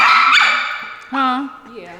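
A dog close by gives short, high yips and whining cries in quick bursts, with people's voices mixed in around it.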